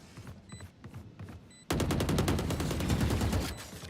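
Gunfire wall bangs in the Valorant video game: a rapid, loud burst of automatic shots starts suddenly after a quieter stretch of faint shots and game noise and fires continuously for about two seconds.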